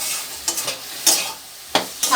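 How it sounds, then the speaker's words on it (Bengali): Taro sautéing with chili powder and spices in a pan, a low sizzle broken by several sharp scrapes and stirs of a spatula at irregular intervals, close and without talk. "এখন আমি কচুটাকে কষিয়ে নেব"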